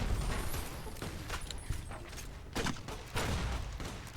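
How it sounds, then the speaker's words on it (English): A grenade launcher fires in the Fallout New Vegas video game, giving several muffled blasts spaced a second or so apart, fairly quiet against a low background rumble. "that's a grenade launcher"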